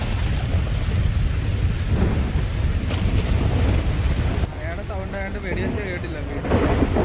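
Steady heavy rain roars throughout, broadband and dense, with a brief stretch where a voice speaks over it before the downpour swells again.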